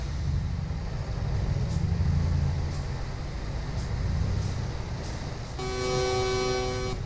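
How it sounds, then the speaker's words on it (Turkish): A car horn honks in Euro Truck Simulator 2 multiplayer, sounding as a sustained tonal blast near the end over steady low engine and road rumble from the game. "Baba kornaya bak bak bak."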